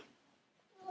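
A house cat lets out a brief, faint meow right at the end, after near silence.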